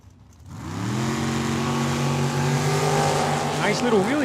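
Chevy Malibu and dragster launch side by side at Tucson Dragway, engines ramping up into a loud sustained roar with rising revs, under a track announcer's commentary.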